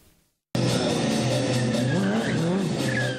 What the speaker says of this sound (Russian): Рев мотора и сложнейшие трюки,